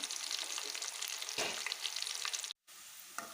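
Green gram (moong) fries in hot oil with a loud, continuous crackling sizzle and dense bubbling, broken by a very short gap of near silence before the frying noise resumes.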